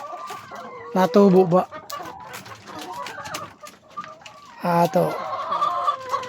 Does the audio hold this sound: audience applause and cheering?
no